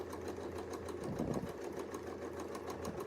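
A sewing machine stitches a feathered crosshatch quilt design, its needle tapping in a fast, even rhythm with a soft motor hum, faint and close throughout.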